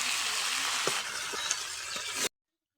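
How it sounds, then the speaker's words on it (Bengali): Potato and tomato pieces fry in oil in a pan, a dense continuous sizzle broken by a few soft stirring scrapes before cutting off abruptly. "আলু আর টমেটো ভাজা করছি"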